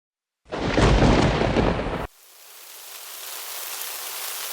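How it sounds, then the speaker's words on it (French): A loud burst of heavy rain or a rumbling thunder crash lasts about a second and a half, then cuts to steady, softer rainfall that slowly builds. "Oh, il pleut!"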